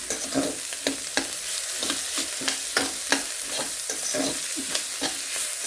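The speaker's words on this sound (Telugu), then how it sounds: "అల్లం వెల్లుల్లి పేస్ట్ పచ్చివాసన పోయేంత వరకు కలుపుకోవాలన్నమాట" Ginger garlic paste sizzles in a hot pan while a spoon scrapes and stirs through it in steady, repeated strokes, close and fairly loud, with no voices.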